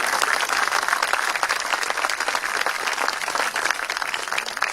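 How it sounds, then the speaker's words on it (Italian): Dense, sustained applause from a large audience, many hands clapping steadily and loudly without pause. "facciamo un applauso alla Fondazione Cariparo"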